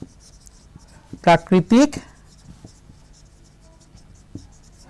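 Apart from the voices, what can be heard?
writing on a board during a lesson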